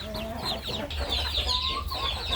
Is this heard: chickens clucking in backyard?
yes